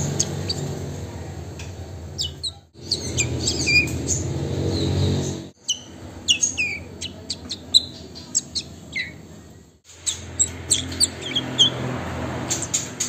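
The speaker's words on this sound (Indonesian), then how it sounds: "Nah jadi itulah suara riwikan trotol jantan usia 20 hari ke atas" Male fledgling songbird over 20 days old giving soft, rapid chirps in scattered bursts, fairly close and alone, with low background noise between calls.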